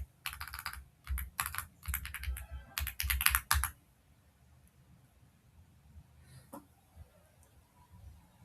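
Bursts of typing on a computer keyboard as a terminal command is entered, close and crisp clattering in quick clusters for about four seconds, then near silence with faint room noise.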